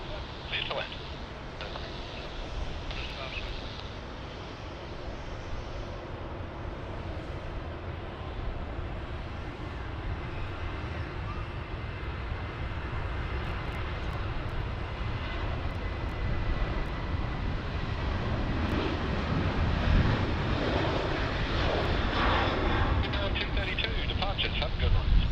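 An airliner comes in to land on runway 16 right at Sydney Airport in a 12-knot southerly wind, its broad engine roar steady at first and then swelling louder and closer toward the end.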